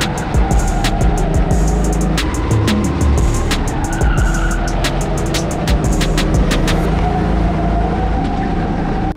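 A racing go-kart at Kart System Bordeaux Lac runs laps in a race, its engine a steady loud drone with sharp clicks and possible tire scrub throughout, close and continuous with no talking.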